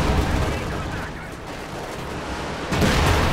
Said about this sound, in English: they start launching all kinds of artillery at me